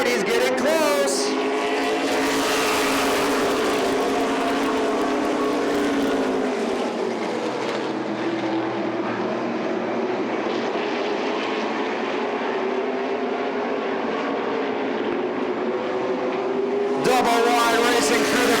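A pack of race cars roars past at Oxford Plains Speedway during qualifying for the TD Banknorth 250. The loud, sustained engine roar swells and fades as the cars pass close by, under a commentator's voice.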